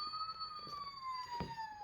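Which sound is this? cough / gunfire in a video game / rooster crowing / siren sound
siren sound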